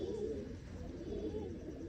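Fancy flying pigeons coo low and steadily nearby, a soft continuous murmur with gentle rising swells and no voices.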